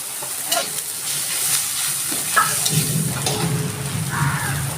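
Onions sizzling and frying in a pan with salt and turmeric, a steady hiss with occasional stirring scrapes and a faint crow cawing in the background.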